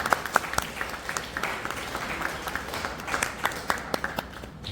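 Applause from a congregation at a Bible sermon, a thinner patter of many hands with individual sharp claps standing out, fairly steady across a few seconds.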